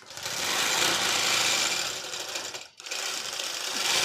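A longarm quilting machine stitches a client's quilt with a loud, steady, rapid mechanical whir that dips and stops for a moment partway through, then runs on.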